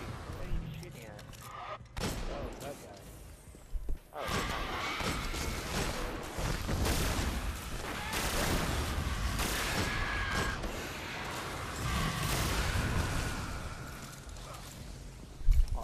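Rapid gunfire and explosions from the video game Destiny, dense bursts of shots running almost continuously under players talking over one another.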